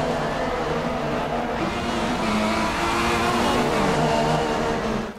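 Renault-powered Formula 1 car engines in the F1 2016 racing game, on worn intermediate tyres during a close battle, roaring loudly and steadily with rising and falling revs throughout, alone with no commentary.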